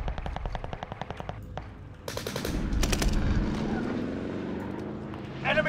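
Video game gunfire rattles in rapid machine-gun bursts, then a heavier roaring barrage swells with aircraft-like drone, loud and close, while a voice talks over the action.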